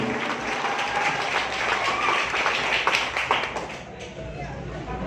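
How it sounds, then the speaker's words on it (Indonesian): Lively applause and clapping from an audience at a village community event in Padang Asri, honoring the Trisula youth group; dense, continuous clapping of many hands that thins slightly toward the end. "Beri tepuk tangan yang meriah untuk Karang Taruna Trisula desa Padang Asri."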